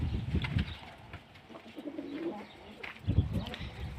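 Pigeons coo in low, soft bursts close by, two clear clusters at the start and near the end with quieter murmurs between, and someone speaks faintly in the background.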